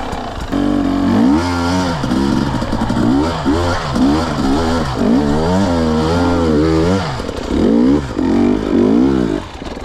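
Enduro motorcycle engine at the Alestrem 2024 endurance race, revving hard and repeatedly. The engine pitch rises and falls close by, loud and continuous for the whole stretch, with no speech.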